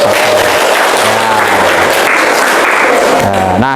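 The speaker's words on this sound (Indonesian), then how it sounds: "Ya, tepuk tangan untuk Bapak." Loud, close classroom applause for a teacher during an Islamic history lesson, a dense continuous clatter of clapping with a brief tonal sound over it near the end.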